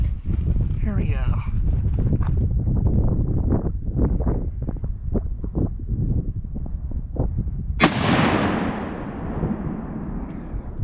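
A Ruger 77 Ranger rifle fires a single sharp, loud shot outdoors late in the moment, its blast trailing off in a long rolling echo, preceded by people talking nearby.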